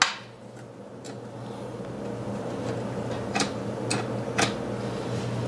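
Dry biscotti ingredients being mixed in a bowl: a few sharp clicks of a utensil striking the bowl over a steady low kitchen hum, sparse and moderately close.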